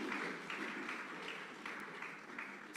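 Steady applause from a church congregation welcoming a couple forward during a Sunday service, a continuous wash of many hands clapping at moderate distance with gentle swells and no break.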